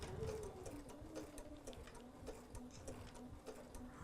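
A sewing machine stitches appliqué on fabric, its needle ticking in a quick, even mechanical rhythm at a soft level, with slight pauses and speed changes as the fabric is turned.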